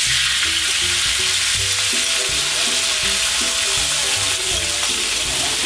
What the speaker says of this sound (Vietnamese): Rồi tỏi đã thơm và vàng, các bạn sẽ cho hỗn hợp nước mắm vào.